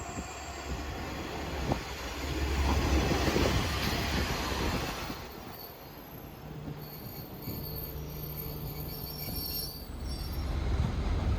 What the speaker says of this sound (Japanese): 薩摩川尻駅にて列車が到着です。